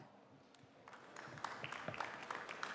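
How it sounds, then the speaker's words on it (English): Applause from a startup pitch-competition audience welcoming a presenting team, starting faint and then swelling into moderate, scattered clapping from a crowd at some distance. "let us welcome Better Team with a round of applause."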